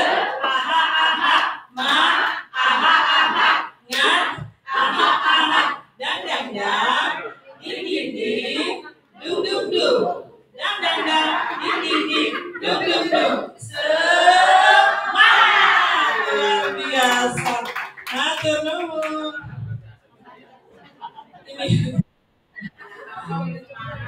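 A group shouts a spirited rhythmic chant in unison, with bursts of clapping and loud voices in close succession before the noise tails off into quieter scattered sounds.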